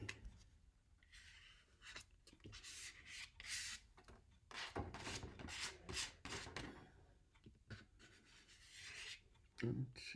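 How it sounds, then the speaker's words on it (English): Paint rubbed by hand onto a surface in strokes that run every direction, even against the grain, giving repeated soft rasping and scrubbing bursts close by, with a louder scrape near the end. "I'm gonna try rubbing it on there any which way I can, even going against the grain."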